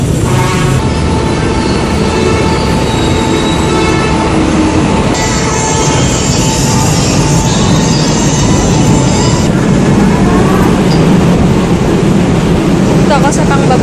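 An MRT metro train heading to Quezon Avenue rumbles steadily along the rails with a loud continuous roar, brief squeals and shifting tones as it travels.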